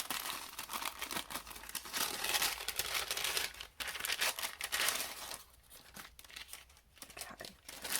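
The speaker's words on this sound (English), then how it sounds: "So let's open up our card kit." A card kit package for an Easter bunny stamp set card project being opened, with close crinkling and tearing of plastic and paper in uneven bursts, fairly quiet, alone without talk.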